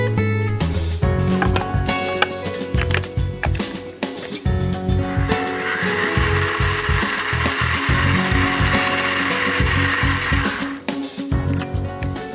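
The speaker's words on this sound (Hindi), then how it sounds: "इसे अब हम मिक्सी में पीसेंगे" An electric mixer grinder grinding masala, first rattling and knocking irregularly as the contents tumble, then settling into a loud continuous whirring grind that stops abruptly near the end.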